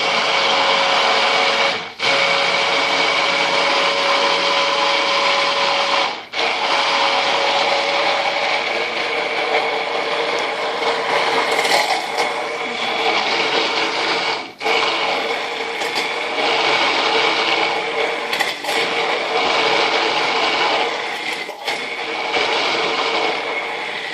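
Loud continuous whir of a blender mixing oil into homemade paleo mayonnaise, a steady motor drone with a few brief dips and pitch shifts as it is adjusted.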